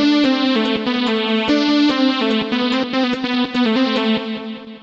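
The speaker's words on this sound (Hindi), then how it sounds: "और उसके बाद में यहाँ पे एक दूसरा लीड है मैंने इसी BST प्लगइन से बनाया है" Second synth lead from the Morphine VST plugin, made for Bhojpuri Holi music, plays a busy, bright melodic line of quick repeated notes, clear and steady, with no voice over it.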